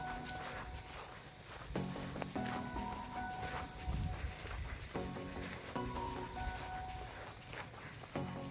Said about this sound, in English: Some grasshoppers hopping around.